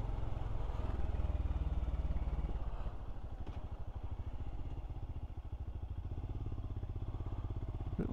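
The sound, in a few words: Royal Enfield Scram motorcycle engine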